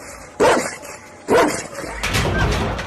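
A Kangal shepherd dog gives two loud, deep barks about a second apart, followed by a rustling, huffing noise close by.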